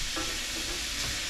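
Food sizzles and spits in a pre-seasoned Haugen cast iron frying pan, a dense, steady hiss close by with faint scraping from stirring, with no talking.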